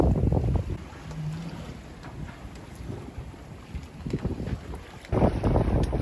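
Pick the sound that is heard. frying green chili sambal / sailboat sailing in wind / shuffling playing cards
sailboat sailing in wind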